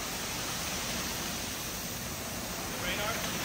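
Car wash rain arch spraying water onto a passing vehicle, a dense, steady hiss of falling water, loud and continuous, heard without talk.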